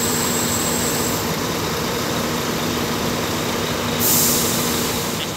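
Medan Jaya intercity bus reversing in a nighttime traffic jam at Torgamba, its engine droning steadily up close, with a brief hiss of air near the end.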